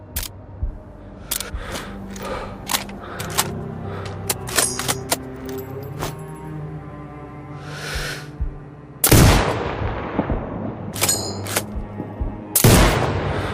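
Sniper rifle shots in the video game Sniper Ghost Warrior Contracts 2, several sharp booming reports spaced seconds apart, with mechanical clicks and bolt-action sounds between them.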